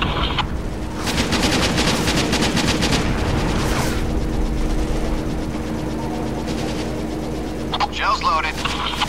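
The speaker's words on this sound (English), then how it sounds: "Bringing main gun to bear. Firing." Tank main gun fire in Syphon Filter: Logan's Shadow, heard as loud bursts of rapid gunfire with booming low rumble, set among steady engine and battle noise that runs through the scene.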